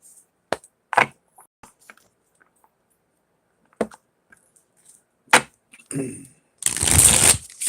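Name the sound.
tarot cards being shuffled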